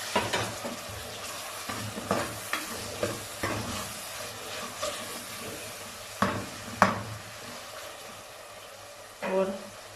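Tomatoes tipped into a pan of onions already fried light brown at the edges, giving a steady sizzle with repeated stirring scrapes and a few louder clatters, close and moderately loud, with no one talking.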